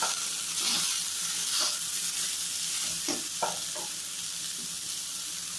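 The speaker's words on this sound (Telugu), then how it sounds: "ఇందులోనే బీట్రూట్ ముక్కలు వేసి బాగా వేపాలండి" Beetroot pieces fry in a pan, a steady sizzle running throughout with a few brief stirring scrapes near the middle, moderately loud and without any talk.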